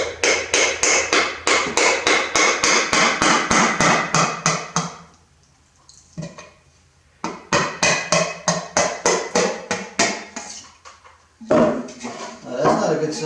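Rapid, sharp hammer taps repeat in quick bursts, pausing briefly before resuming, close and fairly loud.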